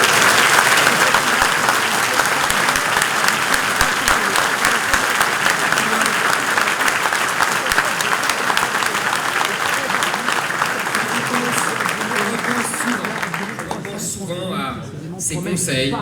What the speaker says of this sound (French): j'aimerais qu'on le refasse, que vous l'applaudissiez